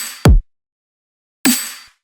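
A favourite kick drum sample from a producer's sample pack, struck twice: a punchy low thump with a bright clanging attack, then a second hit about a second later with a ringing metallic tail that fades out.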